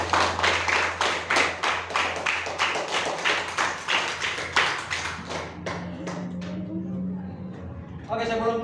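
Clapping by a class in a coding and artificial intelligence training lesson: a few hands beating a steady, rhythmic series of distinct claps for about five seconds, then trailing off into a murmur and a brief voice.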